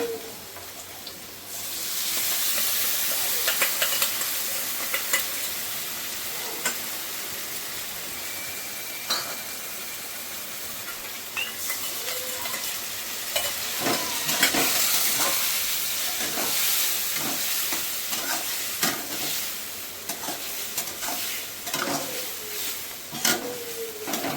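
Continuous hissing sizzle of spices frying in oil with potato and onion, steady and moderately loud, with scattered crackles and occasional stirring clicks.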